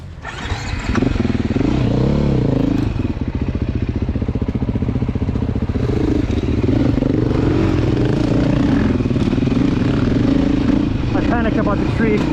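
A Beta dirt bike engine in second gear drones steadily at moderate revs, close and loud, with clattering and scraping from the ride over rough ground.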